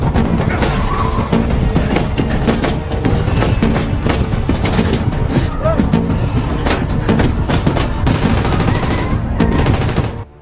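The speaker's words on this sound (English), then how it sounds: "Chaos erupts as gunfire echoes through the air during the intense chase." Rapid gunfire bursts sound almost nonstop through a film car chase, loud and dense over engine and crash noise, with action-scene mayhem throughout.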